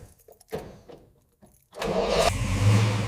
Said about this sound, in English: Listen to that. Flathead sound. Nothing else like it in the world.